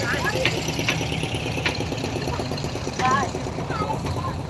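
A boat engine runs at a steady idle-like chug on a boat trip, its low rhythmic pulsing continuous and close throughout, with people talking over it.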